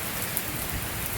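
Steady rain falls during a severe thunderstorm under a shelf cloud in August, a dense, even hiss of drops pattering on surfaces, close and continuous with no voices.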